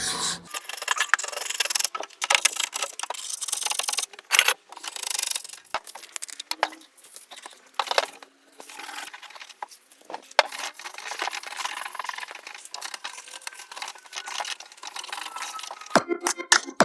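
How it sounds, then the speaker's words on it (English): A hand scraper strips old wax from an antique pine sideboard, giving a steady, close dry rasping and rubbing of blade on wood in repeated strokes with brief pauses, no voices. "So you just carry on as before with your scraper, getting rid of all the wax."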